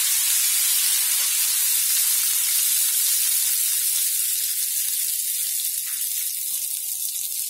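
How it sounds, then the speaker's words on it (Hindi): Ghevar batter poured in a thin stream into hot oil in a deep pan, giving a loud, continuous hiss and bubbling sizzle that holds steady throughout with no talking. "मैं अब स्टार्ट करती हूँ और थोड़ा थोड़ा ही हमको बैटर को डालना है इस तरीके से"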